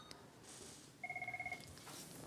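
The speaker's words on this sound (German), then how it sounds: "klingelt sein Telefon." A telephone at a water utility's emergency fault service in Hamburg rings with one fast electronic trill, fairly clear against a quiet room.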